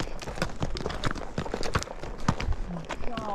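A horse's hooves clatter on a very rocky hill trail in Wakefield Canyon in an uneven, steady walking rhythm of sharp clops close by, with a voice talking over them.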